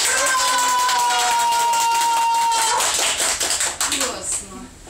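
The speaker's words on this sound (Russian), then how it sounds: "аплодисменты." Audience applause at a party on a riverboat during a dance contest: a sustained, dense clapping that swells in after a tonal ringing and then breaks into scattered claps, fading toward the end.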